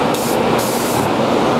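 An HVLP spray gun lays conversion lacquer along the edges of a woodworking piece in a continuous loud hiss with two brief dips in the highs, close up and with no voices.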